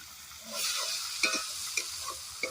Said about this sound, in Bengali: ভালো করে টমেটোটা ভেজে নেব।